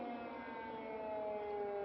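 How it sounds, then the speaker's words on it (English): Air raid sirens wailing over Kyiv, a sustained tonal howl with layered pitches that drift slowly downward, heard at a distance and fairly faint but unbroken throughout. "We have air raid sirens here right in Kiev."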